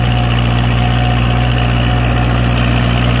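Kubota MU4501 tractor engine running steadily with a rotavator attached in a field, a loud, even drone with constant vibration and no break over the whole stretch, no voices.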